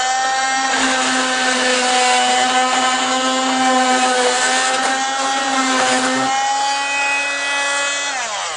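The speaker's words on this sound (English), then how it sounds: "it sucks all that dust and debris out." A homemade shop dust collector runs continuously with a loud, steady motor whine and airflow roar, holding its pitch before dropping slightly near the end, with no talking.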